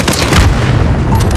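A loud, deep boom rolls through the whole brief moment as a missile launches and explodes in the Modern Warfare video game, dense and rumbling with no clear talk.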